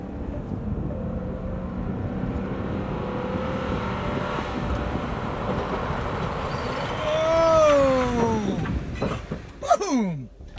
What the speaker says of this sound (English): we're going to go up to 35 miles per hour and get on the brakes